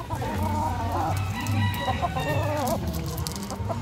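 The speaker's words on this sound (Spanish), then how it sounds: "Un gallo ahí." A fighting rooster crows and clucks steadily close by, repeated calls filling the clip with no talking.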